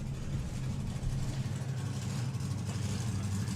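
Two supercharged small-block nostalgia drag cars rumble at a drag strip, a steady low engine drone heard from some distance without talk.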